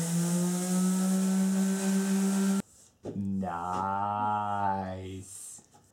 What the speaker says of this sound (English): So here's Jennifer on the orbital sander about to make short work of the small pokies.